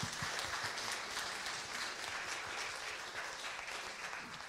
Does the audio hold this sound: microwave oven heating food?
no